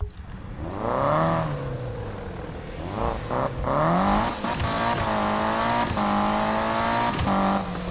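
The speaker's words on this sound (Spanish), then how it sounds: "Este Lancer no suena tan bien como debería sonar." A Mitsubishi Lancer in the 2015 Need for Speed video game revs and accelerates steadily with rising and falling engine tones, joined by brief tire squeals and gear shifts, loud throughout.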